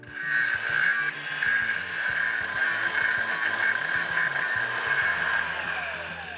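A Procraft cordless angle grinder with an extended gearhead grinds down a weld seam, a steady close harsh abrasive whine with a bright sustained ring and faint rhythmic variation throughout, no talking.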